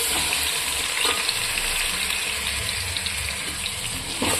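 Ground masala paste frying in a pan after ginger and garlic, a dense continuous sizzle with occasional stirring scrapes, close and steady with no voices.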